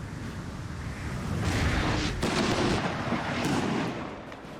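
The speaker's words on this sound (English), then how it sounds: "Ah, howitzers, not a good thing." Howitzer artillery on a Napoleonic battlefield in Napoleon Total War, with a dense, continuous roar of booming fire and rumbling blasts that rises and holds loud before easing slightly, with no talk.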